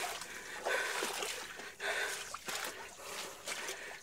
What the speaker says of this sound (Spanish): Discúlpenme mi respiración